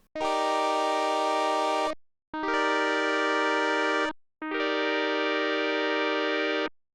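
Three long sustained synth tones in a row, each bright and metallic with rich overtones, separated by brief silences.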